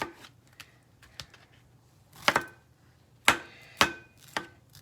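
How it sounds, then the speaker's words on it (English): A knife cuts through fresh pineapple on a cutting board in a home kitchen, giving several sharp, close chops at irregular intervals, some in quick pairs, with quiet pauses between them and no talking. "as soon as my pineapple is finished cutting"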